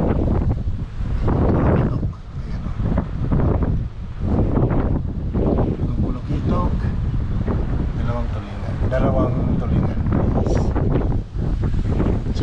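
Strong wind buffets the microphone on a small fishing boat out at sea, a loud continuous roar with gusty swells and water noise, and a voice speaks intermittently over it.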